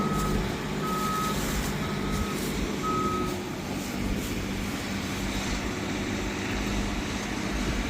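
A 360 Rain irrigation machine in a corn field gives short, evenly spaced warning beeps over a steady low engine drone as it begins moving off.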